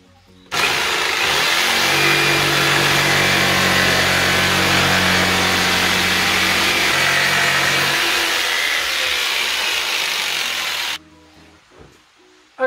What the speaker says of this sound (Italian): andrò a effettuare dei tagli in corrispondenza qui degli assi verticali con il seghetto alternativo